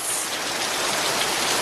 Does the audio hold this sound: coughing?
no